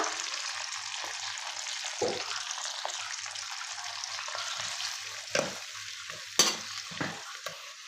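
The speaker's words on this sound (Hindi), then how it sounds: "इसको इसमें डाल देना है और प्याज को अच्छा सा ब्राउन कर लेना है, गोल्डन जैसा" Finely chopped onions fry in hot oil for Hyderabadi chicken masala, giving a steady close sizzle with a few soft stirring scrapes and brief louder clinks near the end; no voices.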